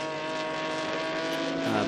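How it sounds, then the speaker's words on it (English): A little Lotus Elan race car with a reworked Ford Crossflow 1500cc engine, about 640 kilos, sweeps through a corner, its engine note droning steadily and loud throughout with a slight shift in pitch near the end. "the speed with which corners can be negotiated by the little Lotus Elan, particularly in the hands of Alexis here, is certainly very, very impressive"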